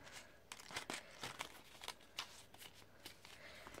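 Small paper cutout offcuts are scooped up and poured into a paper envelope, giving soft, quiet rustling and papery shuffling in a series of short bursts.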